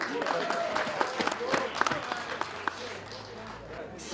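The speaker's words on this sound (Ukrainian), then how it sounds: "Ваші оплески раківським Карпатам." Applause rings out for a football team at an awards ceremony, scattered hand claps rising under an announcer's amplified voice in a reverberant hall.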